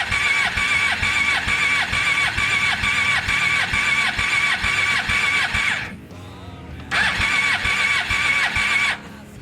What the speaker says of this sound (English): pull the clutch in and I'll start it and just turn it over and watch for the sparks.